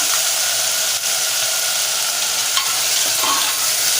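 Potato pieces and sprouted chickpeas with salt are stirred in a hot pan, a continuous loud sizzle and fry with faint scraping of the spoon throughout, no voices.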